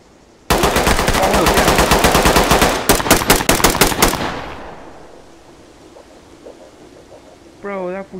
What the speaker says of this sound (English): that fool started shooting at us from all the way up there